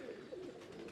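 Athre breed pigeons coo in a soft, continuous, low murmur close by, with no voices over it.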